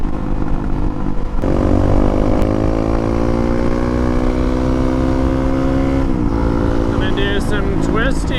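A 2017 Honda CRF250L 250cc dual-sport motorcycle with its exhaust baffles removed roars loudly and steadily while riding, its engine pitch climbing as it accelerates through gears.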